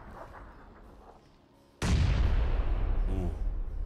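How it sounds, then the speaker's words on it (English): A grenade goes off in a competitive shooter match, one sudden loud close blast that rolls into a long, dense rumbling tail, with faint game sounds before it. "Prez almost getting hit by the grenade as well"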